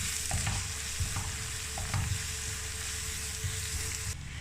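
Spices being stirred into a masala egg omelette mixture, a steady scraping and stirring with sizzling in the background, close and continuous with a few louder knocks of the spoon.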